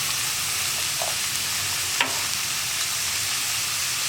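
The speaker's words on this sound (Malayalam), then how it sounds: "ഇനി സവോള നന്നായിട്ട് കുക്കായി വരുന്നത് വരെ ഇളക്കി കൊടുക്കുക" Onions sizzle steadily in a pan while being stirred for a soya roast, with curry leaves and salt added; the loud, continuous frying hiss is broken by one sharp scrape of the stirring spoon.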